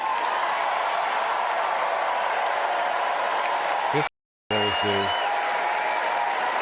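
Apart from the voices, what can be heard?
audience applause at a speech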